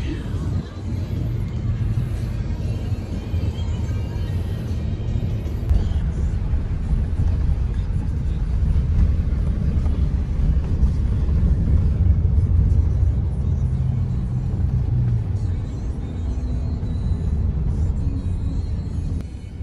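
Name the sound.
heavy road traffic heard from inside a car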